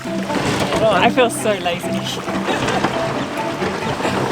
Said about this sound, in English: I'll just see if I can drag it with you in it.